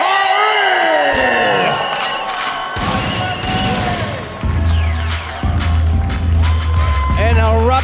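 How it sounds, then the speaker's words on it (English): A wrestling crowd at a hometown NWA rumble event cheers and whoops loudly, a dense roar of voices and applause filling the arena, with entrance music and an announcer talking over it. "An eruption of applause for the Hawx Aerie in their own hometown."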